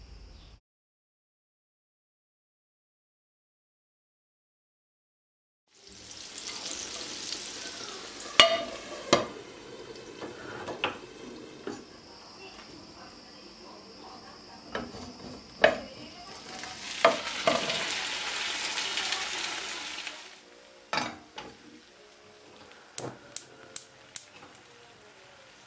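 Zucchini and potatoes fry in a pan, a steady sizzle with scattered pops and clicks, a few sharper knocks near the end, after a silent opening of about five seconds; no one speaks.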